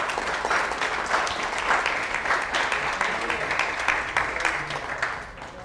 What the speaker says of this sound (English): So if you'd join me in a round of applause for our trustees